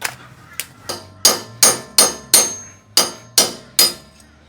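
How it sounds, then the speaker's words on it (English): Lug nut being turned onto a Nissan Navara wheel stud with a stud puller tool: about ten sharp, evenly spaced metallic clicks, loud and close, each dying away quickly. "this will spin as you turn in the lug nut"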